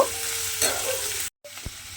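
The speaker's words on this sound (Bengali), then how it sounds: "এবার সমস্ত কিছু মিশিয়ে আবারও কিন্তু একটু ভাজা ভাজা হতে দেব।" Flat beans, potato, onion and green chili stir-frying in a pan, with a continuous close sizzle, a brief drop to silence partway through, then a sharp utensil scrape against the pan.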